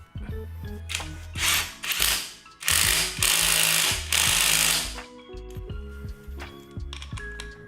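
A torque wrench ratchets through a torque limiting extension bar in a workshop, with repeated clicking mechanical bursts that swell and fade, then lighter ticking at the end.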